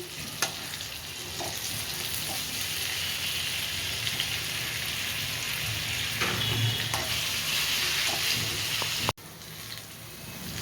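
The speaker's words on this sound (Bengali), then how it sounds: "বেগুনগুলো ভেজে নিলাম লাল লাল করে।" Eggplant pieces fry steadily in hot oil in a pan, a continuous loud sizzle with occasional stirring clatter and a brief dip near the end, no voices.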